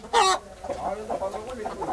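Desi-breed Bapatla hens cluck close by, with a sharp, loud squawk at the start followed by a run of softer, quick clucks.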